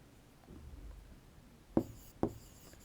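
Pen scratching as notes are written by hand on paper, two brief faint strokes about half a second apart in an otherwise quiet room.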